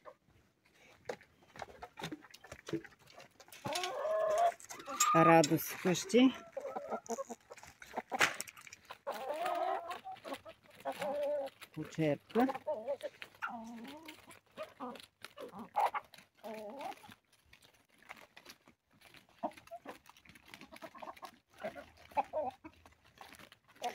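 Hens cluck and squawk close by during winter feeding, busiest early on, while a person talks in Bulgarian over the birds throughout.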